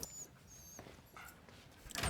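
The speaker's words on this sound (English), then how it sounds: "Dog you got there." A dog in a scene from the Hawkeye TV series gives faint whimpers and a couple of soft yips, quiet and brief, with a slightly louder burst at the end.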